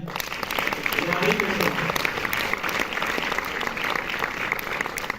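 Dense applause from an indoor cinema audience after a film screening claps steadily throughout, loud and sustained without pause.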